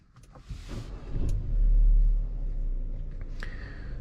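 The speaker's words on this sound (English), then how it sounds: "Let's start up the car." A Forthing T5 EVO car starts up at night from inside the cabin, with a brief click and whir followed by a low swelling engine rumble that settles into a steady idle, close and fairly loud.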